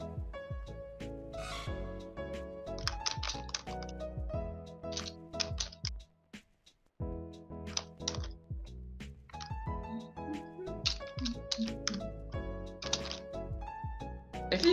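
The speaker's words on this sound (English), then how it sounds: "If you hear keyboard noises, I'm playing Minecraft." Faint computer keyboard typing during a Minecraft game, quick bursts of clicky keystrokes with a short pause partway through.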